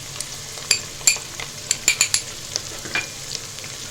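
Red chilli tipped into a sizzling turnip curry and stirred, with a steady fry hiss under several sharp clinks and scrapes of a spoon against the pot.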